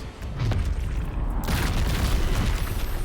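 Cannons firing in Baldur's Gate 3, a dense rolling barrage of deep booms and rumbling blasts that continues loud and unbroken throughout.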